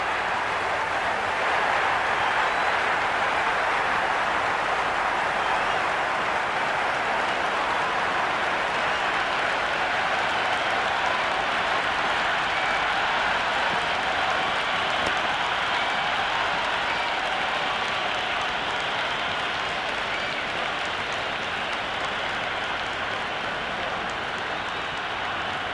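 A packed stadium crowd at a Cricket 26 one-day international between India and South Africa roars and applauds steadily, forming a dense, unbroken wash of cheering that stays level throughout.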